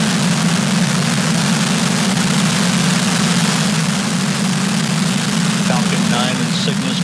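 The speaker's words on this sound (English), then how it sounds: "ignition, engine full power, and liftoff" SpaceX Falcon 9 rocket engines roaring at liftoff, carrying a Northrop Grumman Cygnus spacecraft, a loud, steady, broadband rumble with a strong low drone that persists unbroken, distant and continuous.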